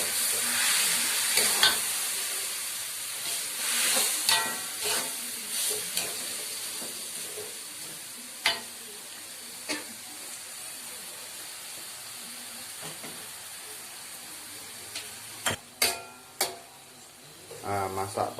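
Bitter melon cooking with salted fish in a pan, a soft steady hiss and sizzle with occasional scrapes and clatters of stirring, louder bursts of stirring near the end.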